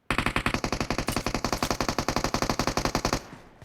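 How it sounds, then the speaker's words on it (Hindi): Long sustained burst of automatic gunfire in the mobile shooter BGMI, about thirty evenly spaced rapid shots in a steady rhythm, loud and close, ending abruptly into a fading echo. "जब उसने इतना लंबा फायर किया"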